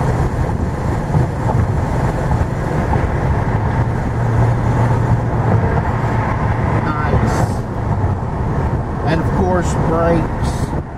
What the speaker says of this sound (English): Get a shot of the downshift.